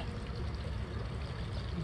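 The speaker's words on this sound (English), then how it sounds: "get you a little scoop of creek water." Creek water being scooped and poured at a tiny stream while mixing gluten fishing bait: a steady, close trickling and splashing pour that runs unbroken throughout, with no talking.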